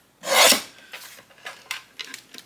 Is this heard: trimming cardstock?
yes